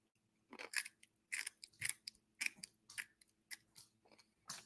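Close-up crunching as a dog chews a crunchy snack: a series of sharp, crisp crunches in an uneven rhythm over a quiet background, with no talking.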